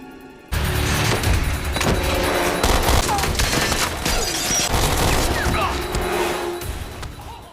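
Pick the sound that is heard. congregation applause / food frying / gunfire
gunfire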